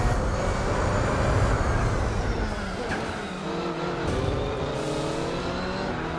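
Race car engines roar in Gran Turismo 4 during a contest with a rival Toyota: a continuous, fairly loud engine drone whose pitch climbs and falls as the cars speed up and ease off, with no talking.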